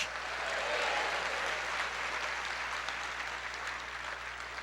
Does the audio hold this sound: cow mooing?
no